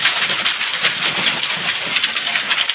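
A rain and hailstorm with strong wind makes a loud, dense, unbroken roar that stays steady for the whole stretch, with no voices.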